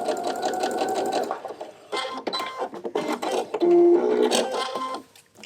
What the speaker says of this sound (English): So I'm going to sew across one short edge.